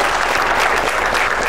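Studio audience at a game show clapping steadily and densely throughout, loud and continuous with no talking.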